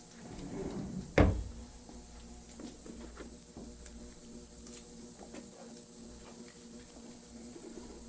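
A drawer in a surgical prep room clacks shut once, a single sharp knock-like thud against a steady room hum, followed by faint small rustles and taps.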